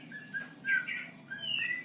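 An oriental magpie-robin (kacer) sings a run of clear, bright whistled chirps and short tweets, close and fairly quiet over a soft steady background hum.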